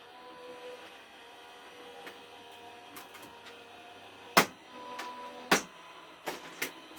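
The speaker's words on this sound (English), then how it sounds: "I am just going to pass this through my machine and I will be straight back" A manual die-cutting and embossing machine cranks cardstock through between cutting plates, a faint steady mechanical grinding with a few sharp louder clunks and creaks near the end.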